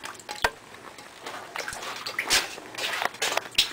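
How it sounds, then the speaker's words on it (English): Water from an apartment leak splashes and drips in a hallway closet, with irregular sloshes and drips close by, moderately quiet. "Hear me splashing in the water still."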